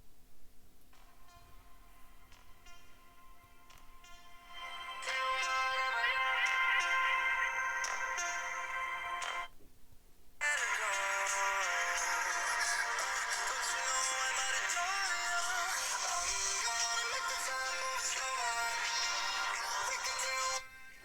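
Music plays from the small built-in speaker of an Oukitel WP12 Pro rugged smartphone, starting quietly, then swelling louder after a brief pause, thin and somewhat boxy with no talk.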